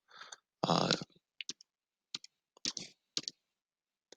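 Short bursts of plastic calculator keys being tapped, a few quick clicks spaced irregularly with pauses between, close and fairly quiet.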